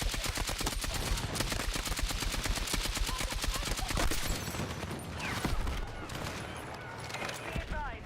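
Sustained automatic gunfire in Battlefield 6, a rapid steady stream of shots for about four seconds, then scattered bursts and explosions in a dense battle soundscape.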